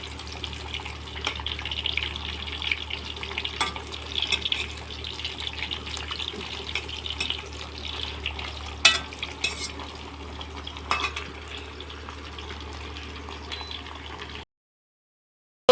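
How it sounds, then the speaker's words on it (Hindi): Jackfruit frying in a pan while being stirred, a steady low sizzle with scattered scrapes and clinks of a utensil throughout, then cutting off abruptly near the end. "इधर मेरा कटहल जो है फ्राई हो चुका है"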